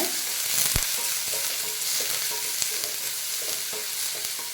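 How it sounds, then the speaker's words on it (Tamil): Onions and green chillies sautéing in a pan, giving a constant close sizzle with periodic scrapes and taps of a spoon stirring against the pan. "அதே மாதிரி ஒரு பச்சை மிளகா ரெண்டுமே போட்டுக்கோங்க. போட்டு நல்லா கொஞ்சம் வதங்கணும்."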